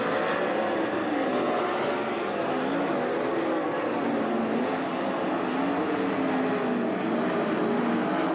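410 sprint cars in a heat race at Attica Raceway Park roar steadily and loudly without letup, engines blending into one dense, unbroken wall of noise.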